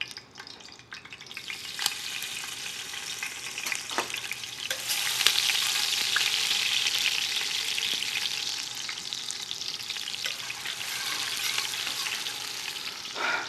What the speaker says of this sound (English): spices are getting sauteed, I got some sliced onions.